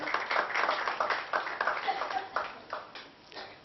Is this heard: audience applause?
yes